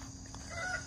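Chickens cluck faintly in an outdoor backyard pen, a brief soft call over a steady hiss of background noise.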